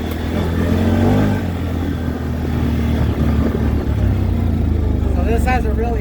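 CFMoto Z-Force 950 Trail side-by-side with Elka shocks held at full throttle on a motocross track, its engine roaring loud and steady near the mic throughout, with a brief whine near the end.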